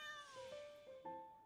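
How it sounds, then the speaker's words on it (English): A cat in the Genshin Impact video game meows, a faint, drawn-out, wavering call followed by a shorter second meow, with no talking over it. "That confused me hearing the meow in-game as I'm reaching down to pet my cat."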